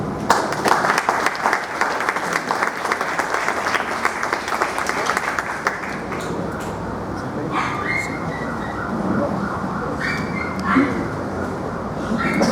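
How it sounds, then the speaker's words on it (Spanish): A crowd gives strong applause at a book presentation event in San Martín de Porres, dense clapping that thins after a few seconds into scattered claps and murmuring voices. "Lo recibimos con un fuerte aplauso"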